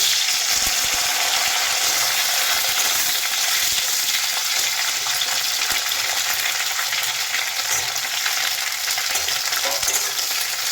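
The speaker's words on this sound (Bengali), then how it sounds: "তেলটা এখন খুব ভালো মতন গরম হয়ে গেছে। দিয়ে দিচ্ছি কেটে রাখা ঢ্যাঁড়সগুলো।" Chopped okra sizzles steadily in hot oil seasoned with black cumin seeds, a loud, continuous crackling fry with faint stirring scrapes throughout, no voices.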